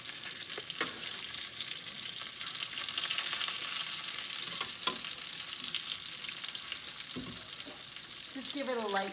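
Food being stirred in hot oil in a pot for Alfredo chicken, a steady close sizzle of frying with a few scraping knocks from the spoon, alone without voices.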